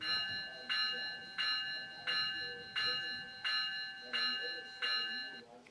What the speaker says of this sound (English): And then the bell.